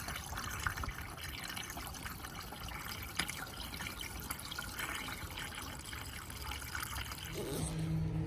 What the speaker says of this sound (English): we're gonna put the radiator top back on and then fill it on that side